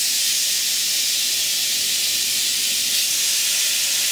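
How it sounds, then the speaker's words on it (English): Bulgogi beef sizzles in an oiled pan with a steady, loud, continuous hiss that holds evenly throughout, with no talking. "I'm going to cook about half of this meat."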